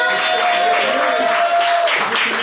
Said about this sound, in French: Je vous demande d'applaudir très fort à la venue au micro de Marc